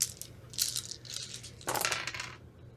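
Dice rolled during a tabletop game, a few quick clattering bursts of rattling and tumbling on a hard surface, close and fairly loud, with no voices over them.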